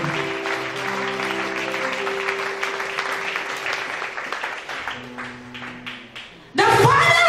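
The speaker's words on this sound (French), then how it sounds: "Put your hands together for Jesus." A congregation at a French-English church sermon applauds for Jesus, steady loud clapping with a sustained held organ or keyboard chord underneath, easing off before a sudden burst of cheering and loud voices at the end.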